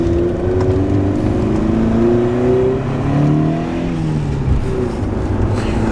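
A Lotus Excel S.E. car engine revs and pulls, a loud, close, continuous drone whose pitch rises and falls with throttle over several seconds, with no talk over it.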